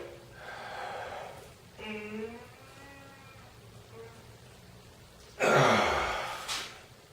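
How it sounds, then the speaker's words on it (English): A person makes a natural yawn during a breathing lesson, a drawn-out voiced sound with wavering pitch, followed by a sharp, loud breathy exhale that tapers off. "right in that moment after doing that natural yawn and stretch"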